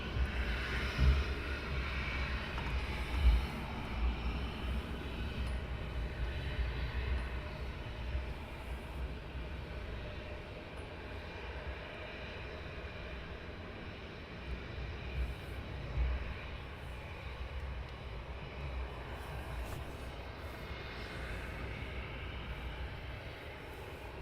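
Ryanair airliner departing Luton Airport on an early morning, its engine roar a steady, fairly distant broadband rumble sustained throughout with low wind buffeting.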